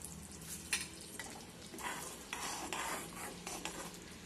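Ginger curry with jaggery stirred in a pan, a close, continuous scraping and swishing of a spoon against metal over a low, soft sizzle, with repeated clinks as the utensil strikes the pan.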